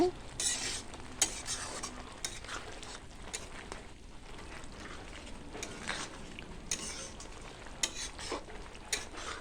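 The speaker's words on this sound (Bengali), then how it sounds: "গুঁড়া গরম মশলা দিয়ে নাড়াচাড়া করে নেব" A vegetarian banana flower curry being stirred in a pan after ground garam masala goes in: continuous scraping and soft sizzling with frequent utensil strokes, moderately quiet and close, with no talking.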